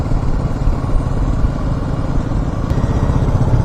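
A motorbike engine drones steadily at close range on a road through Mudumalai Tiger Reserve between Masinagudi and Ooty, with a continuous low rumble and road noise throughout.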